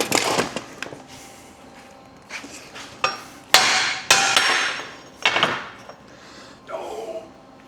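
A big hammer strikes metal while a DIY cultipacker is built, about half a dozen loud, ringing blows at uneven intervals, between quieter clanks and workshop noise.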